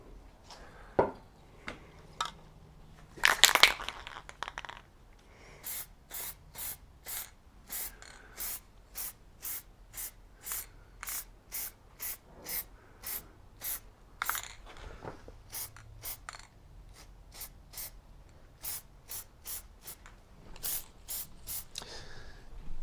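A spray paint can coats a rifle in short repeated hissing bursts, close and crisp, fairly evenly spaced with brief pauses, alongside a few small clicks and handling noises.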